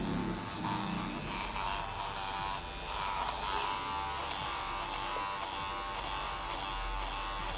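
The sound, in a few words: cordless electric hair clipper cutting hair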